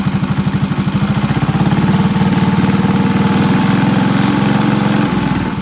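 A drift trike's small engine idles and then revs as the throttle is cranked, a steady close-up pulsing drone that holds loud throughout with no talking.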